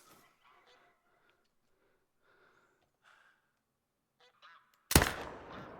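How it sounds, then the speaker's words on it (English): A goose honks in the hunting video game TheHunter. Faint, distant calls come first, then a sudden loud, close honk near the end. "I hear the sound of goose."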